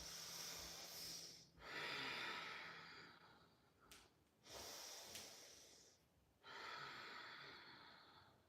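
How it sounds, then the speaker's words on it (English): Slow, deep breathing during a yoga lunge twist, with long airy inhales and exhales repeating at a calm, steady pace, close and soft, with no talking. "Breathe deeply."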